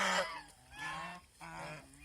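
Domestic geese honking at a goose farm in Mohanganj, Bangladesh: loud, close, harsh honks in three bursts, the first strongest, with brief pauses between.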